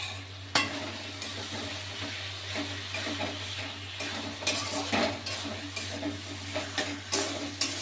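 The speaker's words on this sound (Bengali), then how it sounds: "মাংসটাকে এবার আমি মশলার সঙ্গে ভালো করে কষাবো বেশ কিছুক্ষণ ধরে" Boiled goat meat being sautéed in spices in a pan, with a continuous sizzle under repeated scrapes and clinks of a spatula against the pot.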